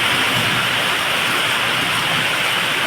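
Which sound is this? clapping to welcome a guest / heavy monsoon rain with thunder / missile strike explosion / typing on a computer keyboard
heavy monsoon rain with thunder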